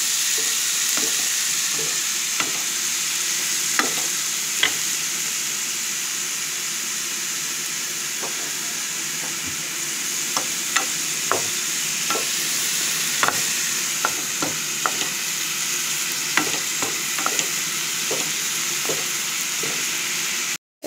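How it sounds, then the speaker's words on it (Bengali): Leafy greens with chopped chilli being stir-fried in a pan, a steady loud sizzle with scattered clicks and scrapes of the spatula, no voices. "শাক ভাজা হয়ে এসছে"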